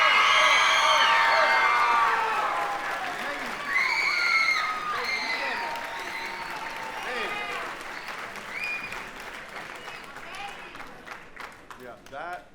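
An audience at a middle school honor band festival concert cheers, whoops and applauds loudly at first, then the noise gradually fades to scattered clapping and calls.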